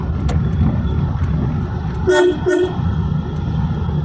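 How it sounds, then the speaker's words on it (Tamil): Two short, loud honks of a car horn in quick succession over steady engine and road noise, from a driving-school car during training in India. "இப்போ ஹார்ன் அடிச்சுங்க"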